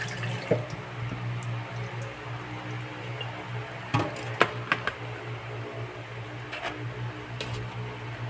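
Tilapia fish are rinsed in water at close range, with soft sloshing, scattered drips and a few sharper splashes over a quiet background.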